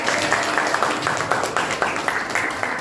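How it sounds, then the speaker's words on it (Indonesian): Classroom of students applauding together, a steady wash of many hands clapping throughout, with faint voices mixed underneath. "Tepuk tangan untuk kalian semuanya."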